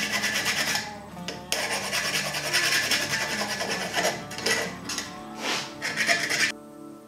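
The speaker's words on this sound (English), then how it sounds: "So this is the chamfering process. You don't have to do a lot. It just takes that sharp edge off the edge" A rasp or file scrapes the edge of a wooden axe handle to chamfer it, in loud, close, repeated rubbing strokes with brief pauses between passes.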